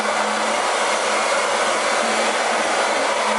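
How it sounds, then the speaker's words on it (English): A hair dryer blows steadily on wet hair, a constant close, loud airy whoosh with a faint motor hum underneath and no talking. "while it's wet, and I'm gonna blow dry it"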